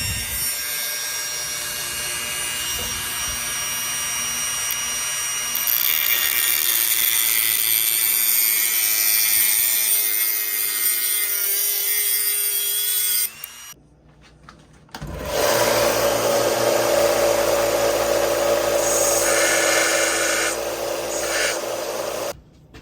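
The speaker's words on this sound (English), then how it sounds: "Now I'm fixing to cut this in and sand it flat" A power sander flattens the handle of a 1978 Camillus US military issue knife, a loud abrasive whine and rasp that starts softer, grows intense, breaks off briefly, then resumes strongly, close and without talk.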